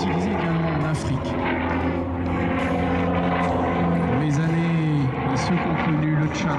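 A Douglas Skyraider propeller plane flying at an air show, its heavy rumbling engine drone loud and continuous with slight pitch shifts as it passes, and a commentator speaking over it.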